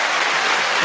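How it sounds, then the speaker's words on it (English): A crowd claps in a steady, dense round of applause at a live show, filling the short moment loudly with no voices standing out. "Let's give it a round of applause."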